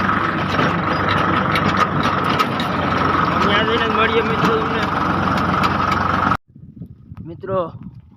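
A tractor engine runs with a loud, steady rumbling drone, then cuts out suddenly, leaving quieter background noise and a voice.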